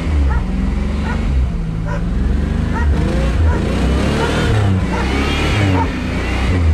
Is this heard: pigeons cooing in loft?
no